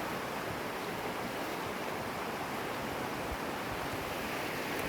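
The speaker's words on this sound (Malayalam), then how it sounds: "മലയിൽ നിന്നുള്ള വെള്ളമാണ് താഴെ ഒഴുകുന്നത്." Mountain water pours down Kaalikesham waterfall in a forest area of Tamil Nadu, giving a steady, even hiss of rushing water heard from a distance with no talking.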